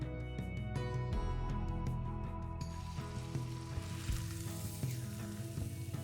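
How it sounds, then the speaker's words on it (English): A roast seared in a hot pan gives a steady, close sizzle that continues at an even level throughout, with no voices. "Creating that brown sear on the meat is going to give the roast really good flavor."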